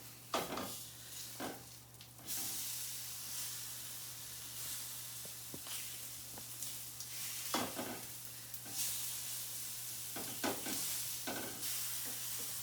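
Burger patties fry in a pan, a low steady sizzle with bursts of hissing and scraping as a spatula turns them, set against a constant electrical hum.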